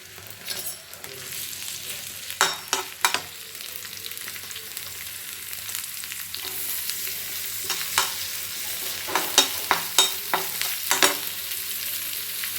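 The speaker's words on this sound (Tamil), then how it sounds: "கொஞ்சமாக எண்ணெய் ஊற்றிருக்கேங்க அது கொஞ்சம் வெங்காயம் போட்டு வதக்கிட்டு" Onions sautéing in a little oil for an egg fry hiss gently and steadily, with scattered sharp clicks of a spoon stirring against the pan, close and unaccompanied by speech.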